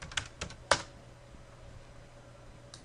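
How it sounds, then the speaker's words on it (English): A few keystrokes tapped on a computer keyboard, close and quiet: a short cluster of clicks near the start, then a pause in faint room hum before one more tap at the end. "type in font"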